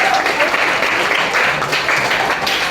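A class of students applauds their classmates, steady clapping from many hands filling the room at close range, with faint voices mixed in.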